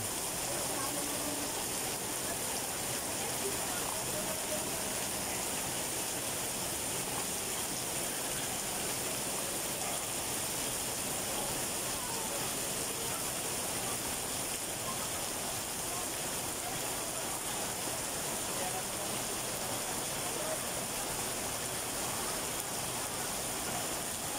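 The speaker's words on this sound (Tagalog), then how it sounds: "At biglang bumuhos ang malakas na ulan." Sudden heavy rain pours down on a Manila street beside a barangay hall under demolition on Alonso Street, Sta. Cruz, a dense steady hiss running unbroken throughout.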